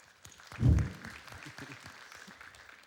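A church congregation at a Sunday morning sermon breaks into brief clapping, a quick burst of hand claps with one louder thump, then scattered softer claps trailing off.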